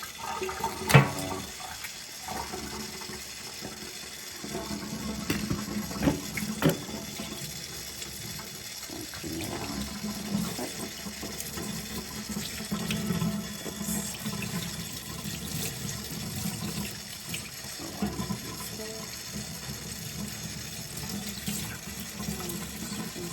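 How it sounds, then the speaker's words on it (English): Tap water running steadily into a kitchen sink while a steak is rinsed under it, a continuous splashing flow with small knocks and shifts as the meat is handled, close and without talk. "let's take this to the sink, and we're just gonna rinse this off"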